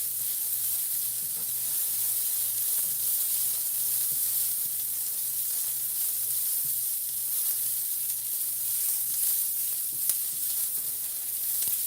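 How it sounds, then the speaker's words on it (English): Two cloves of minced garlic sizzle steadily in a hot pan, a continuous broadband frying hiss with faint crackles running unbroken from start to finish, no voices over it. "I'm going to put in 2 cloves of garlic minced"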